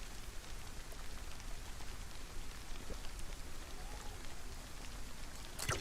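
Steady rain falls in the survival video game DayZ near a coastline: a continuous, even hiss of drops across the whole stretch, with no voices.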